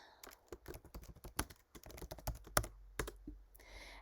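Fingers type on a computer keyboard to enter a Zoom chat message, a quiet, close patter of irregular key clicks with a few louder strokes near the end.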